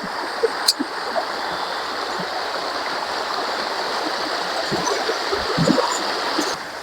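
Steady rushing of a strong stream flowing nearby, broadband and continuous, with a few faint splashes and knocks; no talking.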